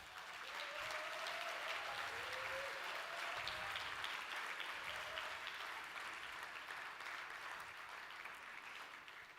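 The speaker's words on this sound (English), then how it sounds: "Let's give them a round of applause." Conference audience gives a sustained round of applause, steady and moderately loud throughout, with a brief tonal squeak or whistle in the first few seconds before the clapping gradually eases off.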